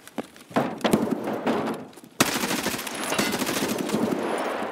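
Gunfire in the video game Escape from Tarkov: a few single shots, then a long, loud, rapid burst of automatic fire that continues to the end, close and dominant.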